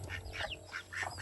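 A few quick nasal duck quacks sound close by, short and uneven, with no talking.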